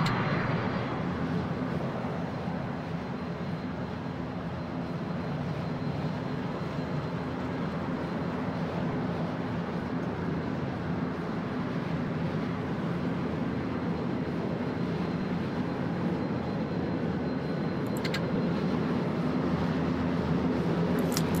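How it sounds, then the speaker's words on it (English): A cargo plane engine in the air traffic control game I Am an Air Traffic Controller 4, set at Naha, roars as a steady, loud, unbroken drone that holds throughout without pauses or voices. "That's a cargo plane."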